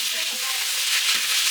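Food for a biryani sautés in a pan, making a loud, dense, continuous sizzle for a brief moment, with no talk.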